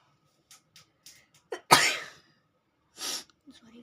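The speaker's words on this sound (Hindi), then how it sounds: "सॉरी गाइस, छींक आ गई थी।" A single loud human sneeze, preceded by a few soft breaths and small throat sounds and followed by a brief exhale, all close and otherwise quiet.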